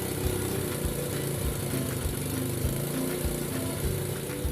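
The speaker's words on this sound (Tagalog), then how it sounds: "parang sinisinok yung idle niya" A Rusi SC125 scooter engine idles unevenly, its close, steady mechanical drone marked by irregular hiccup-like stumbles in the low rumble, with no talking throughout.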